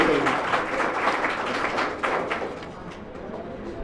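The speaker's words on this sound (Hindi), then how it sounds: "जोरदार ताली तो देखो कमी नहीं रही" Loud, dense applause from an audience at a valedictory function in Indore, greeting the third-place chess winner; steady clapping fills the whole stretch with a slight swell midway.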